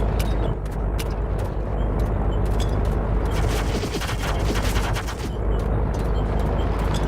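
Bursts of dense automatic gunfire and explosions in the war video game Battlefield, loud and continuous over a rumbling vehicle-like background, with heavy volleys clustering toward the middle.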